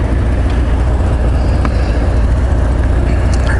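A Yamaha XJ900S Diversion motorcycle engine idling with a loud, steady tick-over, close and continuous without pauses.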